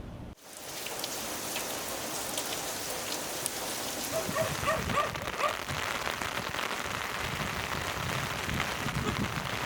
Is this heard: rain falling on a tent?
yes